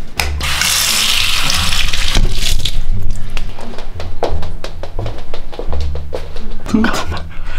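Water runs from a bathroom tap in a steady, loud, close hiss and splash that continues throughout, with brief clatters and voices talking over it.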